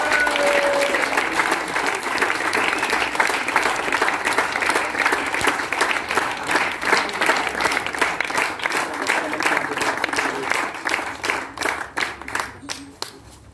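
Audience applause at a ceremony for a tennis tournament, the 41st edition in Pamiers: dense, steady clapping throughout, loud and sustained, thinning into separate claps near the end, with faint voices beneath.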